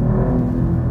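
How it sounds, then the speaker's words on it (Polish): An Alfa Romeo Giulia Quadrifoglio pulls hard at full throttle, a loud, dense low engine roar heard from inside the car for a brief moment with no talk. "ja mu wbijam pedał gazu w podłogę"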